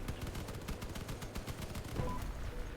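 Vehicle-mounted guns firing in Crossout, a rapid, steady stream of close, loud shots with a slightly heavier burst near the end, no talk.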